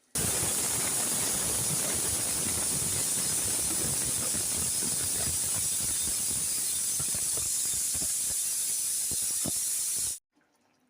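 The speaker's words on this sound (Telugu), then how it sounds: "3 విజిల్స్ వచ్చాక స్టవ్ ఆఫ్ చేయాలి." A pressure cooker of moong dal on the stove lets off a loud, steady rush of hissing steam for about ten seconds, then cuts off abruptly.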